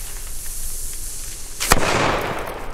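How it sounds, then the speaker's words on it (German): An A-Böller firecracker explodes on New Year's Eve in a single sharp, loud bang, followed by a sustained crackling hiss as the noise lingers over a quieter background. "Man muss bedenken, das ist ein A-Böller."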